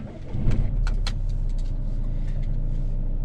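A car drives along during a UK driving lesson on the way toward a test centre, its steady engine and road rumble continuous and close, with a few faint clicks and knocks from inside the cabin.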